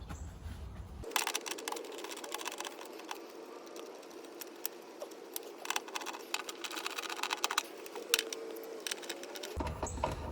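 Screws being unscrewed from a circuit board in a Pentair EasyTouch or IntelliTouch salt system controller, with a close, steady run of small clicks, ticks and scraping from the driver and screws.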